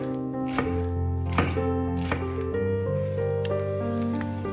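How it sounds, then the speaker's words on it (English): Knife cuts through the white parts of two green onions with sharp taps on a board, several spaced chops over a steady background hum, close and without talk. "Take 2 green onions, cut the white parts"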